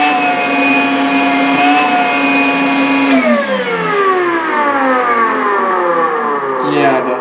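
A Makita 18V cordless wet/dry vacuum, model DVC750LZ, runs on its highest setting with a loud, close motor whine that holds steady, then slides downward in pitch partway through.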